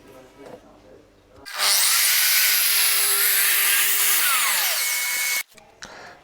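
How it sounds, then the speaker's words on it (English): A track saw trims the edges of a glued and clamped wooden workshop wall unit, a loud sustained whine of blade cutting wood for about four seconds, preceded and followed by quieter handling sounds. "then I use the track saw just to trim these edges off"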